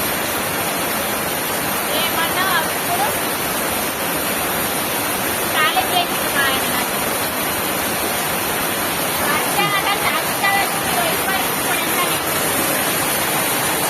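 Heavy rain pouring down in a village, a dense, steady hiss of falling water with brief higher chirps or voices faintly mixed in, continuous and fairly loud throughout.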